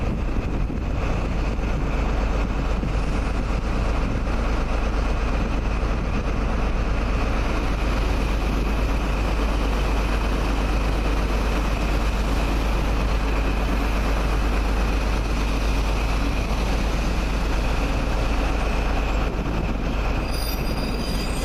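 A British Rail Class 156 diesel multiple unit rumbles steadily past close by near Nottingham, a continuous loud roar with a drone of engine and wheels, buffeted by wind on the microphone.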